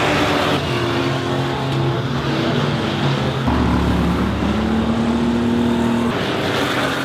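Stock cars racing on a track, engines roaring loudly and continuously with shifting pitches as cars pass and accelerate, several motors overlapping.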